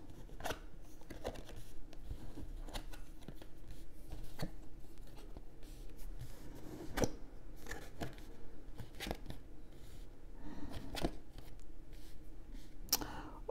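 Tarot cards being turned over one after another on a table, a steady series of soft papery flicks and slaps, fairly close, with light handling noise between them.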